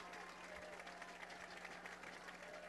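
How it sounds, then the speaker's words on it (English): Crowd at a high school baseball championship game roaring and applauding after a base hit to center, a steady wash of clapping and cheering heard from a distance, continuous throughout. "Gets a big roar from the Bronco crowd"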